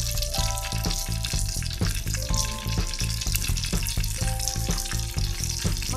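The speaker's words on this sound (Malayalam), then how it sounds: "ഇപ്പം എണ്ണ നല്ലോണം ചൂടായി വരട്ടെ." Oil in a small pan heating before frying samosas, giving a steady close crackle and sizzle with occasional faint clinks, and no voices.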